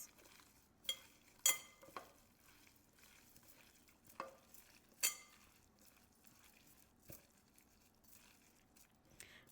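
Conch and lobster pieces are stirred together in a bowl with seasoning, producing quiet wet scraping and a few sharp clinks of utensil on bowl at irregular intervals, close up and without talk.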